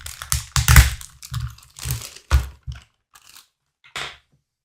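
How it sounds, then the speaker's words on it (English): Plastic wrapping crinkles and crunches as a plastic stand for a 1/20 Plamax Macross VF-25G nose model is pulled out, in several close, bursty rustling bursts with short pauses and a final crackle. "I'll take it out of plastic and show you."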